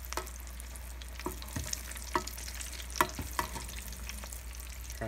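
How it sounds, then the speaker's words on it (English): Homemade falafels deep-fry in a fryer, giving a low, even bubbling hiss with scattered faint pops and crackles, heard from a short distance. "So we have them in our fryer"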